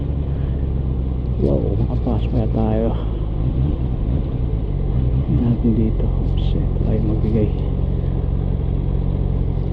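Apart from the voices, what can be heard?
road traffic heard from a motorcycle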